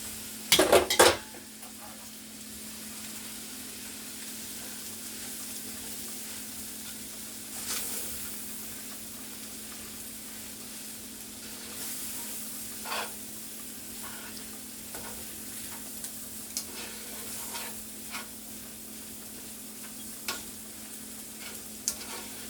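Noodles being tossed and stirred in a frying pan for chicken lo mein, with a steady sizzle throughout, a clatter of utensils at the start and scattered light scrapes and clinks of stirring.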